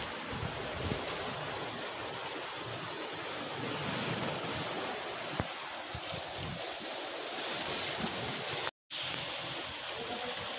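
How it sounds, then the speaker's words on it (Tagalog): Strong sea waves at night on a Philippine shore during a rainy night-spearfishing trip, a loud continuous roar of surf and wind noise with a brief dropout near the end. "Grabe ang lakas ng dagat."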